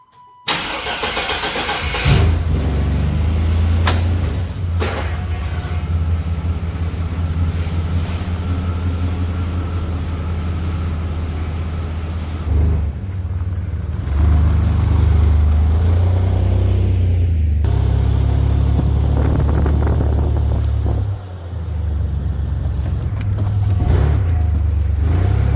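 A Chevrolet Blazer engine cranks and starts, then runs and revs steadily at close range while driving, a low, throbbing engine note with shifting load and brief dips.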